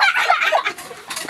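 Chickens cluck in short, busy bursts, close and fairly loud, with a few higher squawks breaking through over a low farmyard background.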